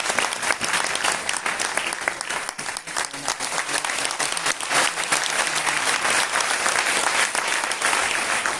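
An audience in a historic auditorium breaks into loud, sustained applause, a dense wash of clapping hands that holds steady for several seconds.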